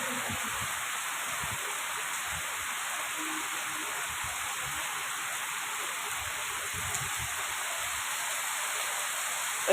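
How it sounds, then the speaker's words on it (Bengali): Heavy rain pours onto a street outside a residential complex, a steady, even hiss of dense falling water that fills the whole stretch with faint low thumps underneath, no voices. "বৃষ্টির জলটাই আপনাদের দেখাচ্ছি দেখুন কিভাবে বৃষ্টি হচ্ছে"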